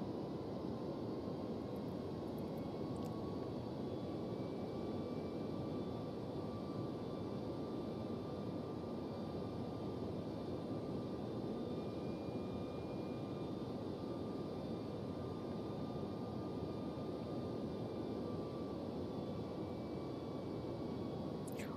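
Steady cockpit drone of an iniBuilds A300-600R(F) freighter airliner in flight, a constant broadband engine and airflow roar with a faint high whine, continuous and unchanging with no voices.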